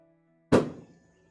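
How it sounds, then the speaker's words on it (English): A single loud firework bang goes off outside, a sharp thump with a short rumbling decay that fades within about half a second. "Oof, that was a loud firework."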